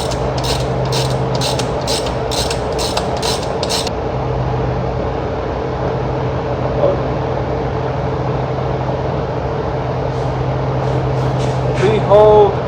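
A ratchet with an 18mm socket loosens the oil drain plug on a BMW E36: a rapid run of sharp, regular clicks for about four seconds over a steady low mechanical hum, which then continues alone.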